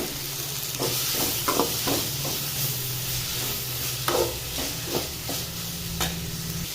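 Grated coconut sautéing in a pan for Kerala kadalai curry, a steady close sizzle and fry hiss with repeated scraping stirs of a spoon against the pan, no voices.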